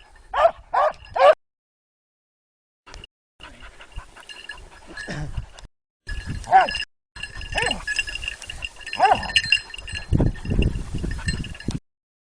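Hunting dog barking during a wild boar hunt near Argos Orestiko, with three sharp barks up front, then a stretch of rustling outdoor noise and further scattered barks and yelps further off.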